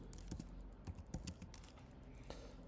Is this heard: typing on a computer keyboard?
yes